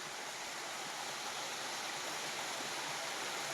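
A mountain stream flows with a steady, hissing wash of water. It sounds faint and even throughout, with no voices.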